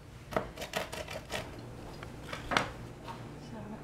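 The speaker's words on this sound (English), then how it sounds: "So I better keep chopping." Several sharp knife chops on a board, cutting almonds, irregular and close, in short bursts with quiet pauses between.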